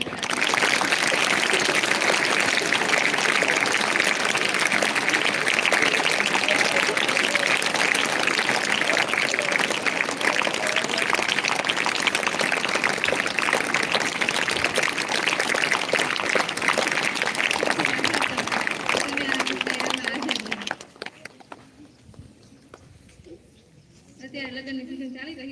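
A large audience claps in dense, sustained applause for a long stretch, loud and close, welcoming two performers at a live stage event, then fading out as a voice speaks and music begins.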